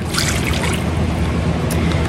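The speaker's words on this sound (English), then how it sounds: "We're gonna put in about a half a cup of water." Half a cup of water poured into a crock pot, a steady liquid trickle and splash lasting about two seconds, fairly loud and close with no talk over it.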